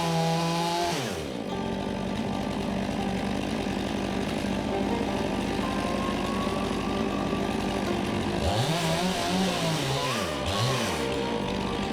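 A chainsaw making the back cut while felling a tree, engine roaring loud and close throughout, its pitch dipping and rising as the chain bogs into the wood near the end.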